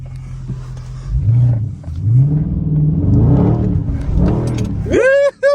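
A 2020 Dodge Charger 392 in track mode accelerates hard, its engine rising through loud revving sweeps with a brief lift between gears, close and continuous, while people talk over it near the end.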